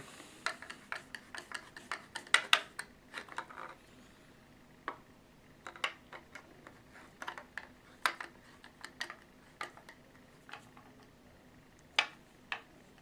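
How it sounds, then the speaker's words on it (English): A rifle stock screw on a Ruger 10/22 is retightened, giving a scattered series of close, sharp metallic ticks and clicks with pauses between them. "So what we want to do now is just retighten our stock screw."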